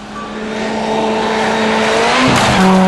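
A Ford Fiesta rally car races on a loose gravel stage in Finland, its engine rising steadily in pitch and loudness as it accelerates close by, with a sharp gear change near the end.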